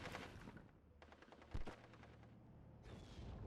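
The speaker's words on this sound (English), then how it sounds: "Now the 25 pounders are coming in strong and starting to pin the Stug 3" Artillery fire from 25-pounder guns in the Steel Division strategy game, heard as dense, rumbling, distant-sounding battle noise with rattling gunfire and one sharper, louder blast in the middle, all fairly quiet.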